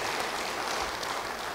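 A church congregation applauds during a sermon, a brief, steady wash of many hands clapping at moderate distance.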